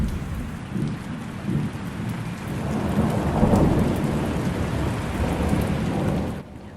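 Thunderstorm sound effect: steady heavy rain pours on surfaces while low rolling thunder swells in the middle, loud and close, then cuts off abruptly near the end.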